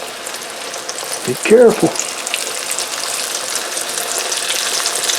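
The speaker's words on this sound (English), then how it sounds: "Now, let's set our fish down in that hot oil." Fish set down in hot oil, frying with a steady close sizzle that carries through the clip, while a voice briefly speaks early on.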